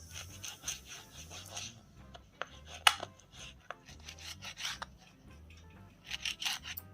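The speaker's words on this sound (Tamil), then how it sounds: "சுத்தமாக நல்லா பொடிசாக கட் பண்ணிக்கங்க" A knife finely chops goat spleen on a board, producing quiet, rhythmic cutting taps and scrapes in repeated bursts.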